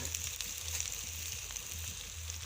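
Onions and spices sizzle in plenty of hot oil, a close, continuous crackling hiss with small pops scattered through it and no voices.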